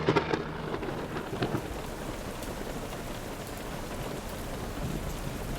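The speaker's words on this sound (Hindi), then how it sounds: "और अचानक जोर से बारिश आ गई।" Sudden heavy rain pouring down with a crack of thunder at the start, a dense steady hiss of falling drops that stays fairly soft and even throughout.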